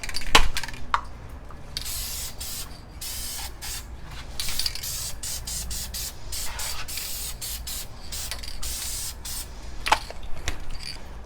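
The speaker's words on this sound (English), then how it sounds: "Now I'm going to hit it with the adhesion promoter." Adhesion promoter sprays from an aerosol can onto a car dash bezel being prepped for paint: a steady, close hiss lasting the whole stretch, with slight pulses as the nozzle is pressed and moved.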